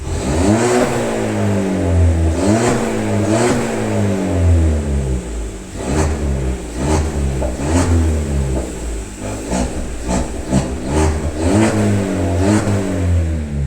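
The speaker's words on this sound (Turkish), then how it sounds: "biraz egzoz sesi dinleyelim" A SEAT Leon FR 1.5 TSI engine revs repeatedly, rising and falling in pitch with a deep throaty exhaust roar, loud and close throughout.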